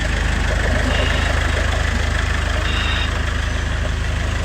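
A pond dredge pump engine idles steadily at close range, a loud, even, droning rumble that stays constant throughout with no pauses.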